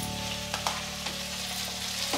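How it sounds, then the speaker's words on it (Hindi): Carrots and other vegetables for navratan pulao stir-fry in a pan, a steady close sizzle under a faint hum, broken by a few sharp spatula scrapes and clacks; no talking. "इन तीनों चीजों को मैं एक साथ फ्राई करूंगी"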